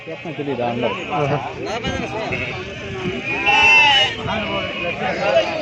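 Sheep bleat several times amid a busy crowd of talking people at a sheep market in Gudur, with one louder, drawn-out bleat standing out near the middle.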